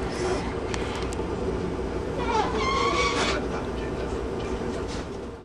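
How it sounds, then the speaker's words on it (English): A northbound passenger train pulls out of the station, giving a steady, loud rumbling roar of rail noise with faint squeals and clatter, no talk over it. "Now the northbound train has left the station and is moving north towards Seattle."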